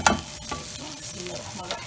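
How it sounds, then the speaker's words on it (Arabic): Hot water is poured into a cooking pot, giving a short burst of sizzling and bubbling with light stirring clatter, close and fairly loud. "هنزل بقى عليه الميه السخنه."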